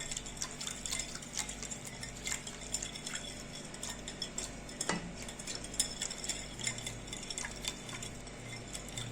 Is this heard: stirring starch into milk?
yes